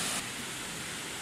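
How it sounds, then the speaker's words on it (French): Broadband rushing roar of waterfall cascades on a river after rain, steady and close, with a brief louder hiss at the very start and no voices. "Il y a quand même beaucoup de bruit avec les cascades."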